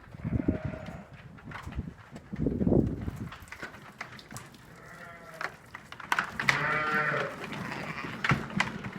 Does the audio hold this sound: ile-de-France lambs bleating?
yes